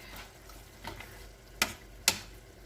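A spoon stirs Puerto Rican style chile in a pot, with soft scraping under a faint sizzle and two sharp knocks of the spoon against the pot.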